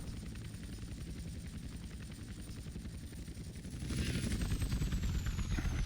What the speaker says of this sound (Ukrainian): Цей вертольот не піднімає.